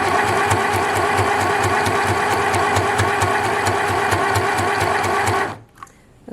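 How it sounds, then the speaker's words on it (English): A portable compact sewing machine stitches at a loud, fast, evenly pulsing rate for over five seconds, then cuts off abruptly, leaving a brief faint rustle. "Okay, it is sewing."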